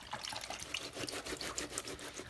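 Clothes are swished and rubbed in soapy water in a sink, with steady splashing and trickling sloshes close by and no voices.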